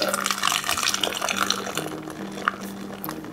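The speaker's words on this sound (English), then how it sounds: "I just grab this and pour it. Now it's a little tricky because you sort of want to pour on an angle so you don't get up too much head." Carbonated flavored drink from a home CO2 carbonation setup poured at an angle into a glass, a steady close liquid stream with a rising pitch and fizzy bubbling, alone without talk.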